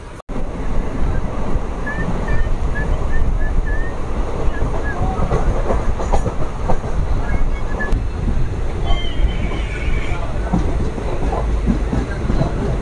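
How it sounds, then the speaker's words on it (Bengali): A passenger train rolls into Palashi railway station on the Azimganj–Krishnanagar City line, a loud continuous rumble and clatter of wheels on track with faint squeals, heard from inside the moving train. "আমরা এই মুহূর্তে পলাশী রেল স্টেশন ঢুকছি"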